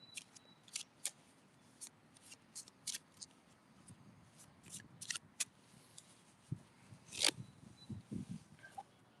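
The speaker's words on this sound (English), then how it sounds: "We give it a good shuffle" A deck of playing cards is shuffled by hand in a quiet room, giving soft riffling flicks and crisp snaps in irregular bursts, close and fairly faint.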